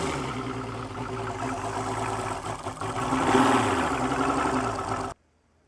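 A Mercury Optimax outboard engine idles on a test run, with a steady, rough mid-pitched drone that rises slightly before cutting off abruptly into silence.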